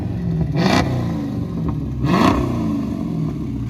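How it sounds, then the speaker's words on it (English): A straight-piped Dodge Charger R/T widebody revs hard twice, each sharp blip rising and falling over a steady loud idle, close up with no voices. "Give it a little revs."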